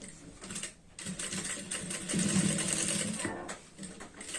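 A sewing machine stitches a diagonal seam on a pair of trousers at the waistband. It runs in steady bursts with one brief pause, and someone talks over it at times.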